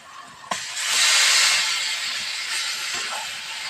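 Boiled taro leaves go into a hot pan with hilsa fish heads, setting off a loud hissing sizzle that swells and then settles into a steady frying crackle, with a clank of utensils at the start.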